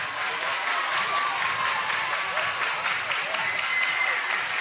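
A softball crowd cheers and applauds steadily during a tense two-strike count at a game in Norman, Oklahoma, with dense continuous clapping and crowd noise filling the whole stretch, fairly loud and sustained.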